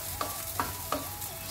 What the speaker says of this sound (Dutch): De ui moet ik 3 minuten bakken.